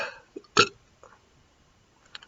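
A short loud burp after drinking BrewDog Double Punk IPA, with a softer burp or hiccup-like catch before it and another faint one near the end, in a quiet room.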